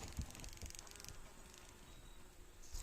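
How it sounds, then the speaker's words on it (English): Honey bees buzzing at a hive during late-fall feeding with 2:1 sugar syrup; a faint, steady, continuous hum with light rustling throughout. "You're gonna have to push all these bees off."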